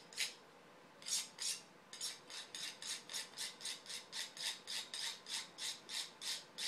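Steady rhythmic rasping strokes of a knife drawn across a sharpener, light pressure, about two dozen bright scraping passes in a quiet room, close and fairly soft.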